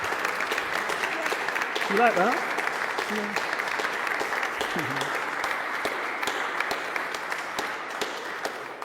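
Steady clapping from an audience after a book reading about faith buildings in Hackney, moderately loud and continuous, with a few voices speaking briefly over it.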